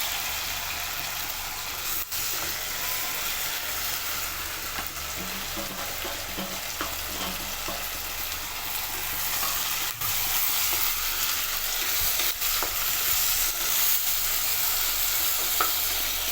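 Ginger garlic paste fries in a pan, a continuous close hiss and sizzle that holds steady throughout, with a few faint knocks of a spoon stirring and no voices.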